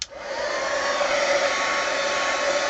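A heat gun blasts steadily over an art journal page, a loud, continuous airy whoosh with a whining hum, starting abruptly and holding level for a few seconds with no talking.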